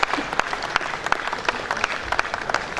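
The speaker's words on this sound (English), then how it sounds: "Please clap for him, please." A crowd applauds steadily, dense clapping with sharper individual claps standing out, continuous throughout.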